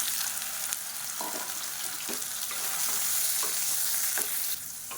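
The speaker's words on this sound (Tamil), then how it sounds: "இப்போ இது வந்து சேர்த்து வறுத்துக்கலாம் நல்லா" Steady, loud sizzling of soya chunks frying in hot oil, with occasional stirring scrapes, continuous throughout and no voices.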